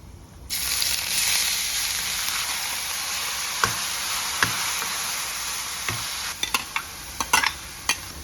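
Chopped onion with whole spices such as black pepper, cloves, black cardamom and stone flower fries in a pan, a loud continuous close sizzle that starts abruptly, punctuated by sharp scrapes and clicks of stirring.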